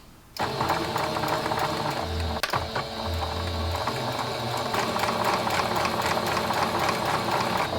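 Sewing machine stitching upcycled pants, a steady mechanical whir running continuously and close after a brief quiet start, with faint low thumps and a sharp click partway through.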